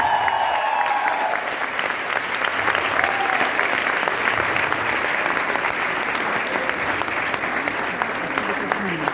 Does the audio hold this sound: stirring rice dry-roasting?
no